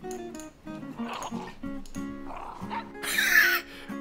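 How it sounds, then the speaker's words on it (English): A small puppy yips, barks and whimpers in short high-pitched bursts, close and fairly loud, against a background of music. "That's my new little dog."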